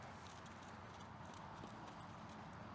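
Hoofbeats of a horse cantering in a riding clinic arena thud in a steady rolling rhythm, faint and distant against a soft background hiss.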